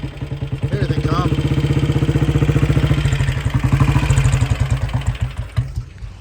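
Several pre-war motorcycles, including a 1920s machine, arrive together on a group ride, their engines chugging in a fast, steady rhythm that builds close and loud, then trails off as they pass.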